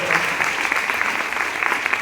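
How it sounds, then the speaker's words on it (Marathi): An audience applauds a speaker at a motivational talk, a dense, steady wash of clapping that fills the whole moment without a break. "सरांसाठी जोरात टाळ्या"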